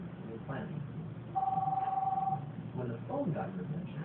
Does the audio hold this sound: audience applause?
no